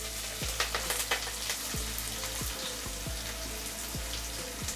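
Onions, chillies and garlic sizzle steadily in a pan for a prawn kulambu, a continuous close crackle with periodic scraping stirs and a few sharper pops.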